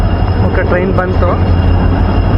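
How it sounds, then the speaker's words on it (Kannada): A train rolls into Shivamogga railway station, a loud, steady low rumble with brief metallic squeals, heard close while a voice talks over it. "ಓಕೆ, ಟ್ರೈನ್ ಬಂತು"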